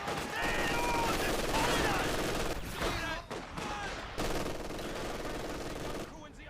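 Bursts of machine gun fire ring out in Company of Heroes 2 as an MG team sets up inside a house to suppress Soviet conscripts, rattling repeatedly under a commentator's steady talk with other battle noise around it.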